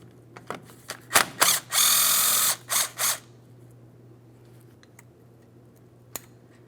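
Ratchet clicking in several short bursts, then one longer run, while an extended T50 Torx bit removes the mounting bolts from a Ford Transit 250 front wheel bearing hub; close and loud over a steady hum, a lone click after a pause.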